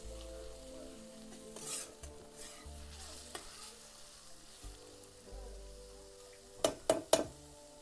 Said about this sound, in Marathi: अजून दोन तीन मिनटं चांगली परतून घेते